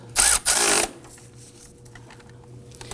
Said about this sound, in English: Let's go ahead and snug down the alternator bolt.